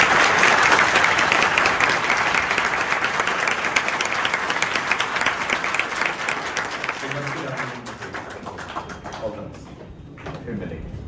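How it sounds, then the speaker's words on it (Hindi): An audience bursts into loud, sustained applause for three successful UPSC civil services exam candidates, the clapping gradually fading and giving way to a few voices near the end. "तो अब आप तीनों सफल अभ्यर्थियों का खुल के तालियां बजा के"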